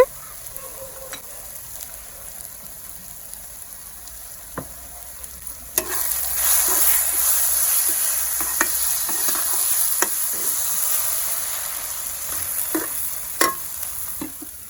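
Chicken curry masala of tomato and onion sizzling in a pan, steady frying hiss that grows louder midway, with repeated scraping stir strokes and occasional utensil clinks, no voices.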